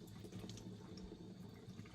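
Running tap water splashes steadily into a sink as a fragile eggshell membrane is rinsed beneath it, a soft continuous wash with faint trickles and no talking.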